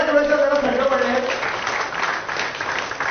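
Applause from an audience at an award ceremony stage: steady clapping that starts strong and thins slightly, with a voice speaking over it.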